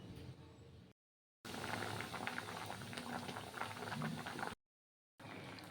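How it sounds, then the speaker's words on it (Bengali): Lentil dal boils in a pot, a faint, steady bubbling simmer heard close, interrupted by two brief silent gaps. "এদিকে ডালটা সেদ্ধ হতে থাক"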